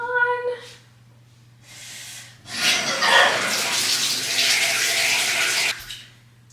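Water runs from a bathroom faucet, a steady close splashing stream that starts after a short hum and a few faint sounds, then cuts off near the end.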